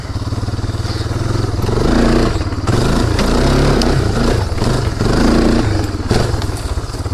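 A motorcycle rides a woodland trail with wheelies. The engine drones loudly and steadily, surging in revs a few times, with rattling clatter and thumps over the rough ground.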